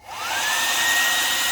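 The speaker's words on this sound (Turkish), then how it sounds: "Normal saç kurutması haline geldi" A small Rax travel hair dryer switches on and runs alone at close range, its airflow rising quickly into a loud, steady whoosh topped by a thin motor whine that climbs as it speeds up.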